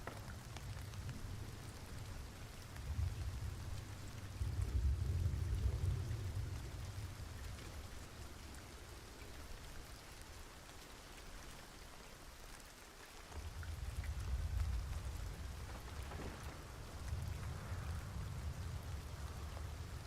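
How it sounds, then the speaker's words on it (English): Heavy rain falling in the game Hunt Showdown, a steady broadband hiss with a deep rumbling undertone that swells and eases in waves, continuous and alone without voices. "So much fog now with the heavy rain,"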